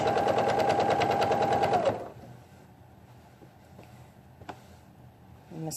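A sewing machine stitches fleece quilt strips in a fast, loud, rapid-fire run for about two seconds, then stops, leaving quiet handling noises and small clicks.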